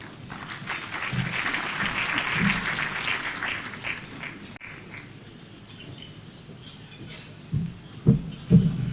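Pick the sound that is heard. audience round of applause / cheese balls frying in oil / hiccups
audience round of applause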